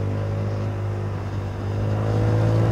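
A Honda Forza 300 scooter engine runs steadily close by, its low hum holding a firm pitch and rising slightly in strength toward the end, with no voices over it.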